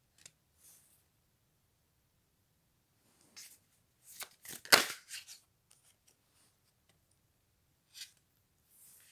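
Tarot cards being shuffled, a quiet riffle of crisp flicks clustered in the middle, with a few isolated light card snaps before and after.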